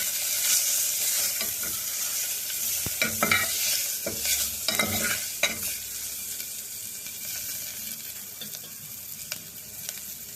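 Pepper, cumin and coriander sautéed in a hot pan, a bright continuous sizzle with clusters of spoon scrapes and taps, busiest in the middle and easing off toward the end.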